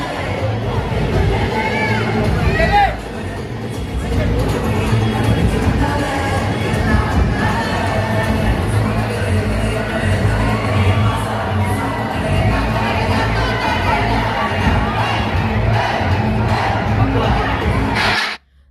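A large crowd of children gathers around Santa Claus at the Phoenix mall in Chennai on Christmas Day, loud continuous shouting, cheering and babble filling an echoing indoor space, cutting off abruptly near the end.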